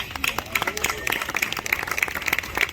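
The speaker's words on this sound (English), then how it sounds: "I want you to give you all a round of applause for being here." Outdoor applause and clapping from a community crowd gathered at a new downtown fountain in Plymouth, Michigan, moderately loud with distinct individual claps and some voices mixed in.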